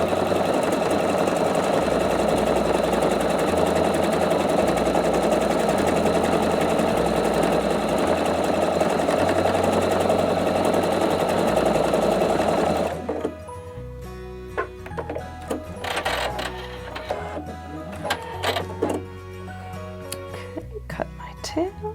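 A Pfaff Quilt Expression 720 sewing machine stitches in a fast, steady mechanical whir for several seconds, then stops; afterward come quieter clicks and handling sounds while a person talks.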